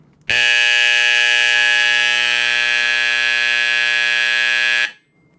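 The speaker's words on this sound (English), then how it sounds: "That was my Edwards Adaptahorn fire alarm horn. It's a vibrating horn" An old Edwards 364 Adaptahorn vibrating fire alarm horn, run on 16 volts AC, blares a loud, harsh, buzzing tone for about four and a half seconds, starting abruptly and cutting off sharply into quiet.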